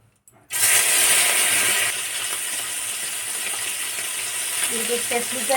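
Small fish frying in hot oil in a wok, a loud bright sizzle that bursts in as they go in and then settles into a steady crackling hiss, close and continuous.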